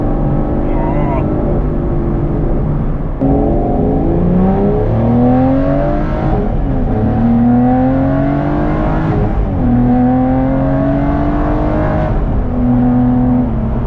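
Aston Martin GT12 V12 revving hard through repeated upshifts, each rising engine note cutting off and restarting lower, loud and close from inside the car over about fourteen seconds.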